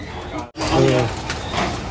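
Racing pigeons in a loft give a short, low cooing murmur partway through, close by, over a steady background hum with some bird activity.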